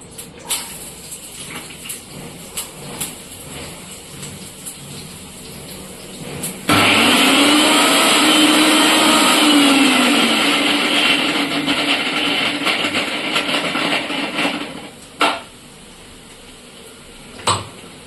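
A mixer grinder grinding garlic starts abruptly partway through with a loud, steady whirring roar that holds for several seconds, then cuts off, followed by a clatter; quieter kitchen clinks come before it, with no talking.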